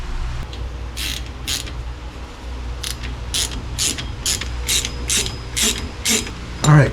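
A hand ratchet clicks in repeated bursts while tightening rotor assembly bolts, each short stroke giving a crisp close pawl chatter over a low background hum.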